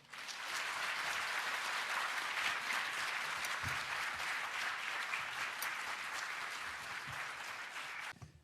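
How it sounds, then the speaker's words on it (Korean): A church congregation at an evening revival service claps warmly to welcome the visiting pastor, producing a continuous wash of many hands at fairly steady volume that runs for about eight seconds before cutting off. "목사님을 환영하는 뜨거운 박수로 환영하겠습니다"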